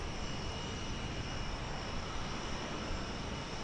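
A United Airlines Airbus A319 airliner at Dallas Fort Worth Airport sends out a steady, broad engine roar that holds at constant strength for the whole few seconds, with no one speaking.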